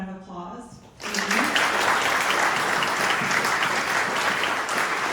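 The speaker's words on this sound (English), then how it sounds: "One more round of applause." After a speaker's closing words, an audience breaks into steady, dense applause at the end of a lecture on American watchmaking, filling the room and staying strong for several seconds.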